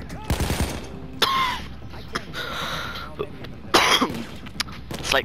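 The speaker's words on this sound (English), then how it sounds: "Slight cough again." A few short, sharp coughs in bursts with pauses between them, fairly close, over a low steady background hum, during a Payday 2 bank heist game.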